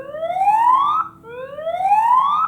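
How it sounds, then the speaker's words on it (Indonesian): An EyeSec ES07 smart IP security camera sounds its built-in alarm siren: two loud rising electronic wails, each sweeping upward for about a second with a short gap between, clear and close with no talk. "ada sirine yang gini nih"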